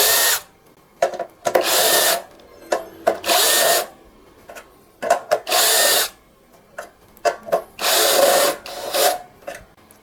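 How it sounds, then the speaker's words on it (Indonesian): A Blackfoot 21V brushless impact drill bores into steel angle iron, about 3 mm thick, in repeated loud bursts of whining drilling separated by short pauses, up close. "Kita akan melakukan pengeboran."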